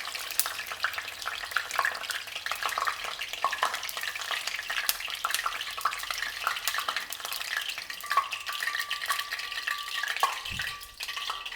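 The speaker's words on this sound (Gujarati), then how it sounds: "હવે 2 થી 3 મિનિટમાં ડુંગળી સરસ સંતળાઈ ગઈ છે" Onions sautéing in plenty of oil in a pan give off a dense, constant sizzle, with light stirring scrapes throughout and a brief low knock near the end.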